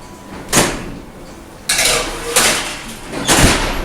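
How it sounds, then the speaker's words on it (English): An oven door clanks open and shut as chocolate chunk cookies go in to bake, with several sharp metallic knocks and rattles spaced over a few seconds in a quiet kitchen. "I just put those chocolate chunk, crazy good cookies in the oven"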